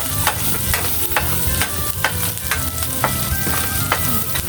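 Vegetables and fish with tomatoes sizzle steadily as they fry in a pan, with periodic scraping of a spoon stirring through them at a close, moderately loud level.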